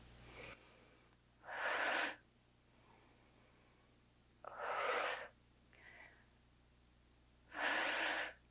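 Three forceful exhaled breaths, each lasting about half a second, come at steady intervals during a dumbbell concentration curl, with quiet gaps between them and a faint low hum underneath.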